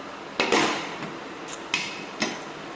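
A knife chops through potatoes on a cutting board, with a few sharp, irregular knocks spaced across a quiet kitchen and no talking.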